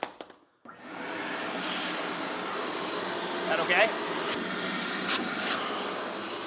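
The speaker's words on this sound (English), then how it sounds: "we'll vacuum using the Rigid with the extended hose" A Ridgid 5 hp, 4-gallon wet/dry vacuum with an extended hose, used for car detailing, switches on after a brief pause and then roars steadily and loudly; a short spoken question is heard over the motor.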